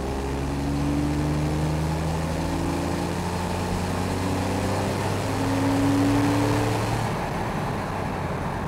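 A Porsche 911 997.2 Carrera 4S Cabriolet drives with the soft top down, a steady engine drone with shifting harmonic tones under road and wind noise, fairly constant in level before easing near the end.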